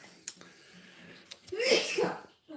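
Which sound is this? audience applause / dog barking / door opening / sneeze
sneeze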